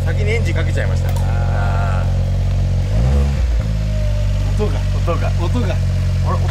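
A Suzuki Jimny JB64 with a full custom build runs with a steady, deep engine drone and a brief rev swell midway, while voices talk faintly underneath.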